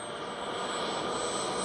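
A Krill Ares L RC jet turbine engine whines steadily with a high, thin turbine tone over a rushing airflow roar, heard at a moderate distance with no voices.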